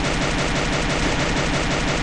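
Gunfire from the battle royale video game Free Fire rattles as continuous rapid automatic shooting. It stays loud and dense throughout, with no pauses and no talk.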